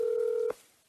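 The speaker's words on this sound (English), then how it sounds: "Okay, we're calling." Telephone dial tone holding steady for half a second before cutting off abruptly with a click, close and clear, followed by near silence.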